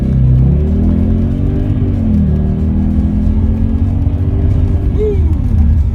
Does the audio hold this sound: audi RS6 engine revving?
yes